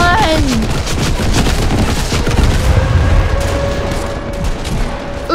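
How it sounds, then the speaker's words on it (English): Airstrike explosions pound down in a Fortnite match, loud overlapping booms and blasts rolling in quick succession amid gunfire-like crackle, with a rising whistle-like tone at the start and faint background game sounds. "There's an airstrike coming on right now."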